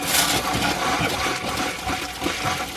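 Water runs hard from a newly installed RV kitchen faucet, a steady close gush and splash into the sink that carries on without a break.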